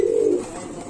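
Pigeons at a pigeon farm give a close, fairly loud coo in the first half of a brief moment, then fade to a soft murmur, with no talking.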